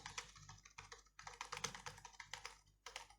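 Computer keyboard typed on rapidly while entering a long line of text, with quick irregular keystrokes in dense bursts, close but faint.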